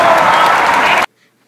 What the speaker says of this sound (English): Now just listen to how loud this crowd is.